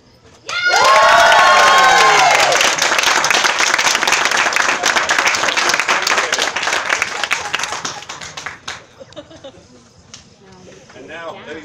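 A large crowd, including children, erupts into loud cheering, shouting and clapping that swells suddenly, holds for several seconds, then tapers off into scattered voices.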